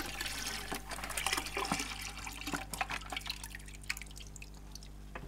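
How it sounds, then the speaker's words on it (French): Tea with milk being prepared in large quantities, liquid pouring and splashing with drips, a steady wet trickle close by over a low constant hum. "Cette professeure d'espagnol consacre 1 heure tous les matins à la préparation de 15 litres de thé au lait."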